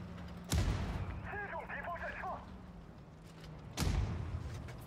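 Two heavy booming tank cannon shots in World of Tanks Blitz, a few seconds apart, with short chirping tones in between and a voice speaking briefly.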